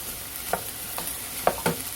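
Onions being stir-fried for curry in a pan, with a steady low sizzle and a few soft scrapes of a spatula at irregular intervals, close and quiet.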